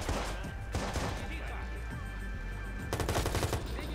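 Rapid bursts of gunfire crack amid a busy, noisy Watch Dogs game soundscape, with a fast volley near the end.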